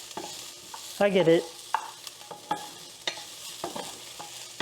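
Shallots frying in a pan for egg fried rice, a soft sizzle with stirring scrapes and a loud burst of clatter near the start, while a voice speaks briefly.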